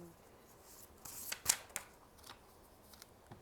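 A quick riffle of tarot cards being shuffled, a soft flurry of papery flicks and taps, fairly close and quiet.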